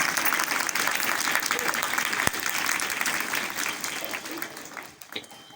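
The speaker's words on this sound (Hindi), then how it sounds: "जोरदार तालियां बजाओ।" A school audience claps loudly and steadily for a yoga teacher's talk, a dense sustained applause that tapers slightly near the end.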